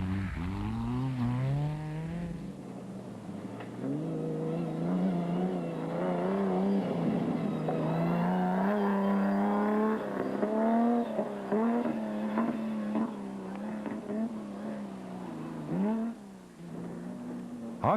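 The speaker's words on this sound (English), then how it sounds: "they ploughed through the thick sand which sapped the power of their 6-cylinder Castrol Toyota Land Cruiser" A 6-cylinder Castrol Toyota Land Cruiser rally car grinds through thick sand in a desert off-road race, its engine droning loud and steady with rising and falling revs throughout.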